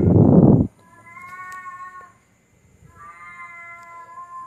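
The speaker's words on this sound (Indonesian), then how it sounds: "wah kucing" A cat meows twice in drawn-out, tonal cries, fairly close, after a brief loud thump at the start.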